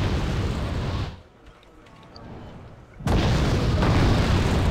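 Uragan rocket artillery strike in Wargame Red Dragon: a loud explosive roar cuts out into a quieter lull, then a second massive blast crashes in and sustains loudly to the end.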